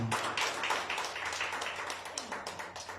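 A church congregation claps for the Lord during a Spanish-language worship service, a steady patter of many hands close and moderately loud, with no talking over it.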